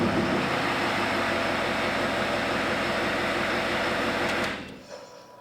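A Powerstroke diesel truck with a failing VGT turbo spools down after shutoff, giving a steady loud whirring drone with metallic bearing and fan noise that cuts off abruptly near the end, leaving a faint residual hum.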